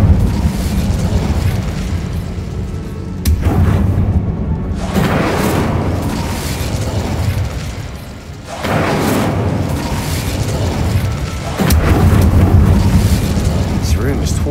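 Incendio fire spells cast in Hogwarts Legacy go off as repeated loud fiery bursts and booming whooshes, spaced a few seconds apart over a constant low rumble.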